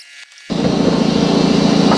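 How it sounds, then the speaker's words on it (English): An air compressor in a workshop kicks on abruptly after a brief quiet moment, then runs with a loud, steady, throbbing hum. "Sorry about the air compressor in the background"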